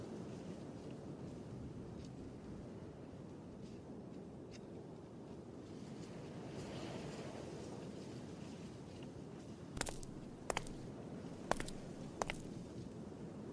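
Ambient water in a large pool blocking a passage in the video game Scratches: a steady, low, rushing wash that fills the whole stretch. Near the end come a few sharp clicks.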